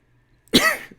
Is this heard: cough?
yes